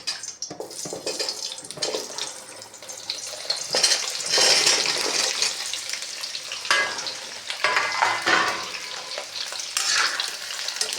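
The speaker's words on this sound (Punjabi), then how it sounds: "ਆਪਣਾ ਸਰੋਂ ਦਾ ਤੇਲ ਇਹ ਗਰਮ ਹੋ ਚੁੱਕਿਆ ਤੇ ਆਮਲੇ ਵੀ ਆਪਣੇ ਸਾਫ਼ ਕਰ ਲਏ ਇਹਦੇ ਵਿੱਚ ਪਾ ਦਾਂਗੇ" Cleaned amla (Indian gooseberries) dropped into hot mustard oil, a loud, steady crackling sizzle with bursts of spattering and stirring throughout, close by and without speech.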